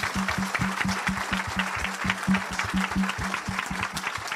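A church congregation claps in steady rhythmic unison while praising Jesus during a sermon, hands beating in a brisk even pulse with a murmur of voices and cheering underneath.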